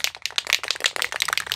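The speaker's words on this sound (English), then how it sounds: "All right, I'm gonna keep shaking her up." Spray paint can of primer shaken vigorously for a backyard repaint of a 1998 Jeep Grand Cherokee ZJ, a quick rhythmic metallic rattle of the mixing ball clicking back and forth, close and steady.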